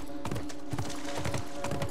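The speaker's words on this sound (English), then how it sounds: "Don't shoot the fucking horse!" Horse hooves in The Last of Us game pound out a rapid galloping clip-clop rhythm, steady and fairly close, with a sustained tonal hum underneath.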